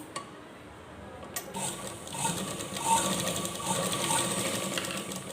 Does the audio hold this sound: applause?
no